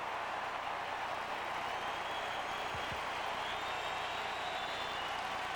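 A baseball stadium crowd at a Rockies–Diamondbacks game roars in a sustained, distant wash of cheering and applause, broad and even throughout with a couple of faint low thuds.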